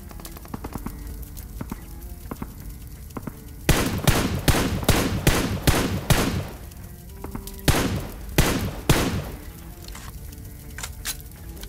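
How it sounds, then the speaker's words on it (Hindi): Gunfire in a battle royale video game: a rapid burst of loud shots, a pause, then a second burst, with fainter scattered shots in the background. "उस जगह पे मेरे से फायरिंग हो रही है"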